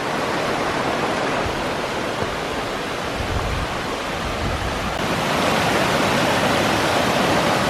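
A river rushes beneath a small footbridge on a mountain trail in Japan, making a loud, steady broadband wash of flowing water that fills the whole stretch with no voices.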